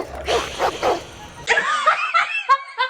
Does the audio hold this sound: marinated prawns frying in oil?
no